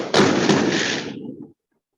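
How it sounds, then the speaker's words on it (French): A burst of fireworks set off nearby in Jerusalem, one loud booming crack followed by a short rumbling tail that cuts off abruptly into silence. "Ce sont nos voisins arabes à Jérusalem qui ont l'habitude de tirer des feux d'artifice très régulièrement"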